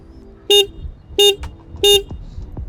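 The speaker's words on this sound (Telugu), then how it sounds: "చాలా అంటే చాలా లౌడ్ హార్న్ అనమాట ఇది" Three loud, short horn blasts from a 2025 KTM Duke 160 motorcycle at a steady rhythm, each a bright buzzing honk close by, with quiet background between them.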